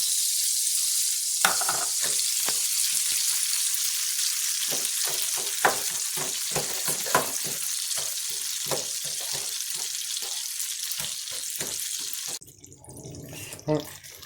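Half a cup of packed brown sugar melting over a medium flame, giving a steady hiss with repeated scraping strokes of a spoon against the pan. The sizzle cuts off near the end, leaving a few faint knocks.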